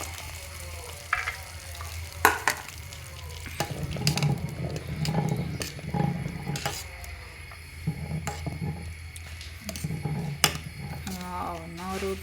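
Cardamom powder, ghee-fried cashews and raisins being stirred into a vermicelli and sago payasam in a pan: a close, repeated scraping stir with soft bubbling and sizzling, and occasional knocks against the pan.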